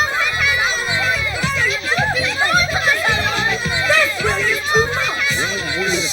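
A crowd of children cheers and shouts together in a loud, continuous babble of excited voices that rises and falls.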